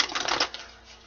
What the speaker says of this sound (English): Four shuffles, my guides,